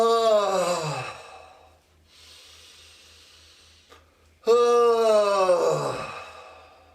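Deep, audible exhalations in pranayama breathwork, two long voiced sighing breaths out, close and loud, separated by a softer airy inhale, with no talking.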